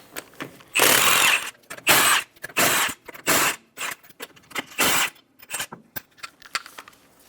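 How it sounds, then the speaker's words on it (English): Five lug nuts being removed from a front wheel of a 2012-2020 Chevrolet Sonic using a 19mm socket, loud close bursts of a power tool whirring on and off in short repeated runs, with brief clicks between, no talking. "Using a 19mm socket, remove the 5 lug nuts."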